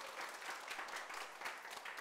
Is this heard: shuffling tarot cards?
no